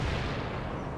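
Artillery fire in World in Conflict, a dense, sustained rumble of heavy guns with rolling low-end booms, steady and loud across the whole second with no clear gaps between shots.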